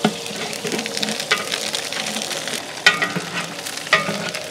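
Onions sizzle loudly in hot peanut oil as they are stirred, with sharp scraping strokes of the spoon against the pan in a South Indian village-style mutton curry; the frying hiss is steady and close, with no talk.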